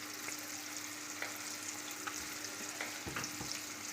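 Crispy chicken pieces sizzle steadily in hot oil as they are turned toward a light golden colour, a dense continuous crackle with a few soft utensil knocks and stirs, close and moderately loud with no talking.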